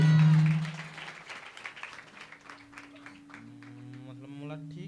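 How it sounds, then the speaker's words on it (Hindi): A congregation claps for Jesus at a gospel festival, a scattered patter of hands under a sustained musical drone and faint voices, following a loud opening tone. "यीशु के लिए ताली बजाएं।"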